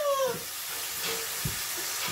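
Coconut curry balls fry in hot oil, giving a steady close sizzle with faint bubbling and a few soft pops, a brief tonal squeak at the start and no talk.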